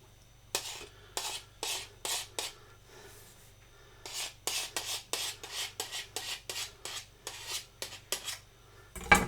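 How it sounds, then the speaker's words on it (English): Back of a knife scraping excess pastry off the edge of a chicken and mushroom pie, a run of short rasping strokes in rhythmic bursts, close and clear, with a brief pause midway. "scraping with the back of the knife along the edge"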